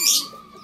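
A racing pigeon gives a brief, low, soft coo up close, opening with a quick airy rustle before the call fades out.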